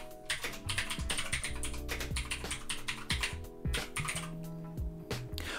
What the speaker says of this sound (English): we simply need to type ADB sideload supersu.zip